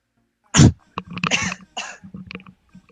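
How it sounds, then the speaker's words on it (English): One sharp, loud cough up close, followed by a few quieter rough throat sounds and breaths. "Have a good cough."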